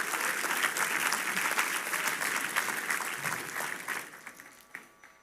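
An audience at a church talk applauds loudly and steadily, the clapping thinning out into scattered claps near the end.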